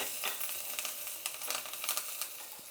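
Curd vada batter with green chillies, curry leaves and asafoetida is stirred by hand, giving close, soft, wet squelching with irregular light clicks and scrapes and no talking.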